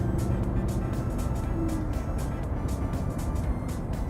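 A Lamborghini Huracán in its Strada street setting drives along, its engine and exhaust giving a loud, steady roar with pulsing rises throughout and no speech.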